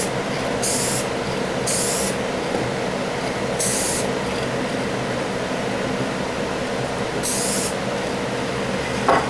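Firehouse Red base coat sprayed from an aerosol can onto a Matchbox Mercury Fire Chief toy car: four short hissing bursts over a steady fan-like background hum, no talking.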